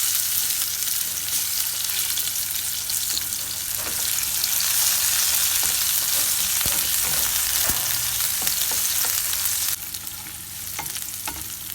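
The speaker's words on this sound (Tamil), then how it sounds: "எண்ணெய் சூடுங்க வெங்காயத்தை போட்டு தாளிக்கணும்." Onions sizzle steadily in hot oil, a continuous bright frying hiss with occasional stirring scrapes, up close.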